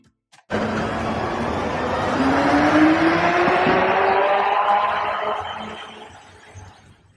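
A Tesla Semi electric truck accelerates hard, starting abruptly into a loud, steady road roar with a rising electric-motor whine that climbs in pitch, then slowly fades over several seconds. No speech.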